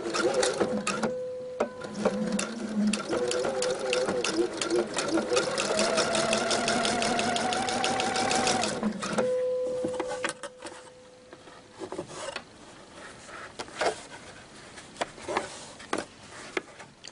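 A domestic sewing machine runs a line of stitching along the edge of a homemade mesh shopping bag, a steady close whirring hum for about nine seconds that slows and stops, followed by quieter handling sounds.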